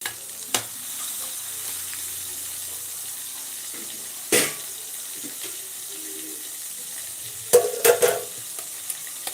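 Cumin, fennel seeds, mustard seeds and onions sauté in a pan with a soft, steady sizzle, broken by a few clattering stirs and knocks of a utensil against the pan.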